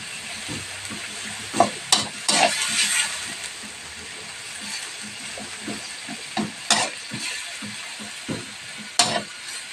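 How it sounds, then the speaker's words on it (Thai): Pork is stir-fried in a pan with a little water and no oil, sizzling softly while a spatula scrapes and clacks against the pan in irregular strokes. "นี่เราก็คั่วหมูให้สุกหอมนะคะ"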